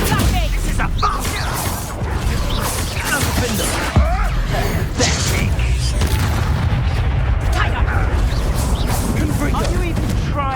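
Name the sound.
bomb explosion in the video game Hogwarts Legacy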